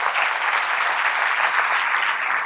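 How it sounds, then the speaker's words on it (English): Steady, dense audience applause from a conference crowd, loud and sustained throughout with no voices over it. "So give her a big round of applause"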